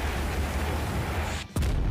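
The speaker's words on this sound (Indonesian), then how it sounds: "Wah, gila meledak men." A skill attack explosion in the mobile game Bleach Brave Soul, a brief dip in the steady roar of game audio followed by a sharp, loud blast that carries on as a dense rumble.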